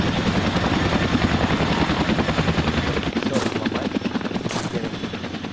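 A helicopter in the video game ArmA 2 with the ACE mod thumps with a heavy, rhythmic rotor chop, mixed with bursts of machine-gun fire and loud in-game combat noise.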